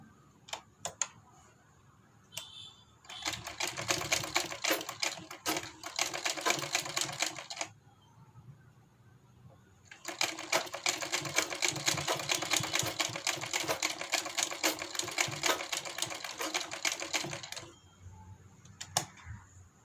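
Sewing machine stitching along an Angrakha garment with a button neck, running in two long bursts of rapid, steady needle rattle separated by a short pause, close and loud with no talking.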